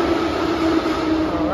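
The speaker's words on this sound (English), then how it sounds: "All right, train is here," A train rumbles steadily nearby with a constant mechanical drone and a high whine, continuous throughout.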